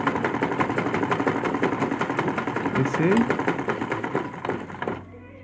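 A butterfly sewing machine with a loose feed regulator runs steadily, a close, loud, rhythmic mechanical chatter that stops near the end of the clip.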